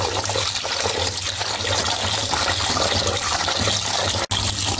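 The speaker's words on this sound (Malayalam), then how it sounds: "നന്നായിട്ട് ടാപ്പിലെ വെള്ളം അങ്ങ് തുറന്ന് ഇട്ട് കൊടുത്താൽ മതി." Water from a tap runs steadily over cooked rice flakes for ada pradhaman, a constant hissing, splashing flow with no talk and one abrupt break near the end.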